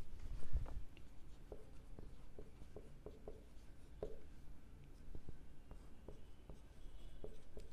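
Chalk or marker strokes on a board during a maths lesson, a series of short taps and scratches spaced irregularly, quiet and close in a calm room.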